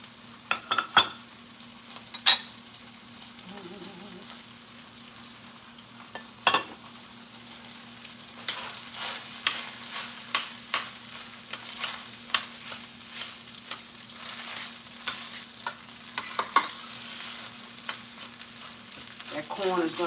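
Okra and corn sizzling in butter in a home kitchen pan, a quiet steady fry punctuated by sharp spatula scrapes and clinks of stirring that grow busier toward the end.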